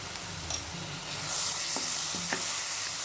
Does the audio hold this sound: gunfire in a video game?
no